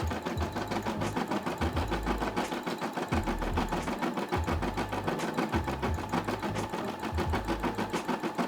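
A Brother SE600 embroidery machine stitches the red section of a Tommy Hilfiger logo, giving a continuous rapid mechanical chatter with a low rhythmic thumping, close and steady throughout, no voices.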